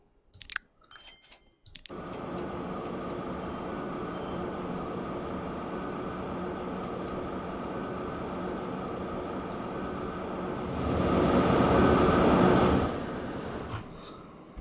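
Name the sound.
train running, from a video game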